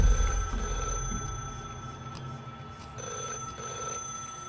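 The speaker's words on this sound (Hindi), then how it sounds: "अनु को एक लैंडलाइन के बजने की घंटी सुनाई दी" A landline telephone bell rings in repeated bursts from a store room, fairly clear against a low background rumble.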